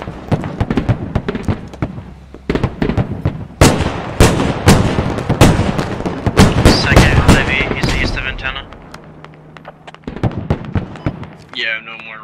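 Rapid gunfire in the military shooter Squad during a 50-versus-50 milsim match: loud, close bursts and single shots crack in quick clusters, some echoing, with players talking over radio between volleys.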